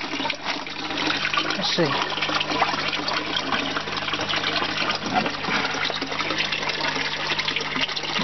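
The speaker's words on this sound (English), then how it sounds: "And you can see how high up the drain will be working, so it's flooding down." Water from an aquaponics grow bed floods down through the tank drain in a loud, steady rushing gurgle, close by and continuous, while someone speaks briefly over it.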